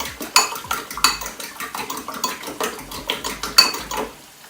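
Four eggs being beaten in a bowl, a quick run of loud, close clinks and scrapes of a utensil against the bowl in uneven rhythm, with no talk.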